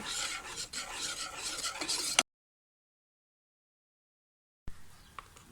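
Milk powder is stirred into ghee in a pan for a sweet dessert, making a close scraping, rasping sound of a spoon against the pan that stops abruptly into silence, then returns briefly with a faint scrape and click.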